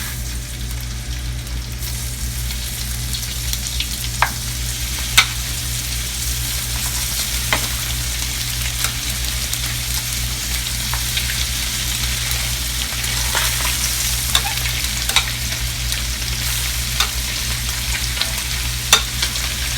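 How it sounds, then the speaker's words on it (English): Sailcat fillets frying in melted butter in a pan on high heat, giving a steady, dense sizzle with scattered sharp pops and crackles throughout, with no talking. "As soon as that melts, then we're going to start dropping the fish in."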